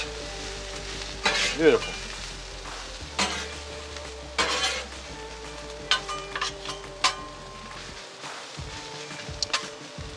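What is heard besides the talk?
sausage and cabbage sautéing on a Blackstone griddle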